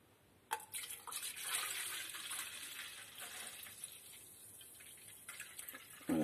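Vinegar pours into a measuring cup in a steady liquid trickle for several seconds, close and moderately quiet, with a small clunk at the start and no talk, for a homemade toilet descaling gel.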